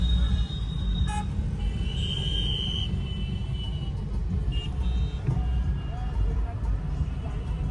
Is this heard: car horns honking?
yes